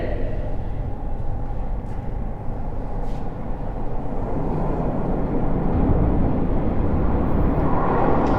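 A Toronto TTC subway train arrives at a station with a broad, steady rumble that grows gradually louder as it approaches.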